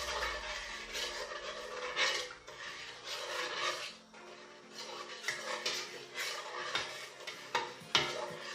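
Rice being stirred with sugar for sweet zarda, a spoon scraping and turning the grains against a pot in steady close strokes, with soft rubbing and metallic clinks, no talk.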